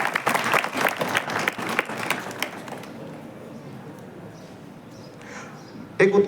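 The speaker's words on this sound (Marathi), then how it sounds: "आपण जोरदार टाळ्या वाजवून" An audience at a school reading-room naming ceremony claps loudly for about three seconds, then the applause fades to a quiet room murmur before a brief burst of sound at the end.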